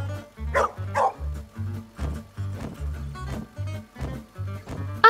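A cartoon dog in the kids' show Brum barks in a quick, regular run of about a dozen clear woofs, close and prominent, with faint higher sounds mixed in.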